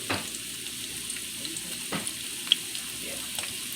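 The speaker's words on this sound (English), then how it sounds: "I'll put us a little oil in here and go ahead and put those potatoes in here." Potatoes, green peppers and onions frying in oil in a pan make a steady sizzle, with occasional soft utensil stirs and taps close by.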